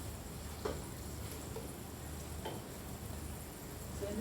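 Onions frying in a pan for Filipino pancit, a quiet, steady sizzle running throughout with a few faint clicks of utensils, no voices.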